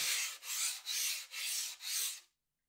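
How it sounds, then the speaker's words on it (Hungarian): A sanding sponge rubs along a foam wing core in five even back-and-forth strokes, a soft, airy hiss close by, then silence. "Hát én így szoktam megfogni a csiszolószivacsot, és először a szárny hosszára mozgatva"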